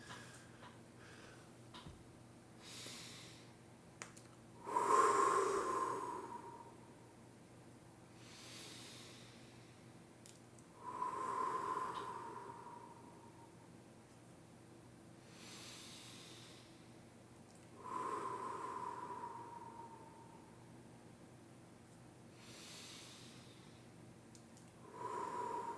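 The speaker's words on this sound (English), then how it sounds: "Let's take some deep breaths." Slow, deep breaths repeat about every six seconds, each a soft airy inhale and exhale, close and quiet over a faint steady room hum.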